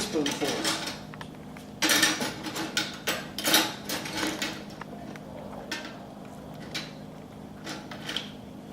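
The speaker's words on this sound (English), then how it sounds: "you want to add this dough to the mix by a teaspoonful" Dumpling dough spooned by teaspoonfuls into a pot of chicken and dumplings, giving repeated close clinks and scrapes of metal spoon against pot and bowl in an irregular rhythm.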